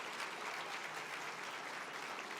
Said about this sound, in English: How about a big round of applause for all of our sponsors tonight?